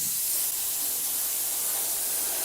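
A continuous spray-paint hiss, steady and close, runs without a break for a few seconds as paint is sprayed onto a model tank.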